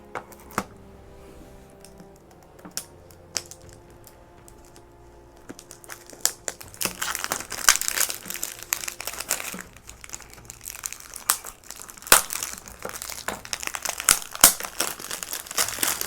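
Cellophane wrap crinkling and tearing as it is peeled off a Nintendo Switch 2 game case, quiet at first, then a dense run of close plastic rustles and crackles with no talking.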